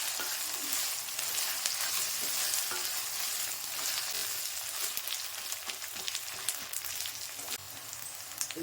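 Chopped onions and ginger garlic paste fry in hot oil for semiya upma, a dense steady sizzle with crackling pops running continuously and close, no voices.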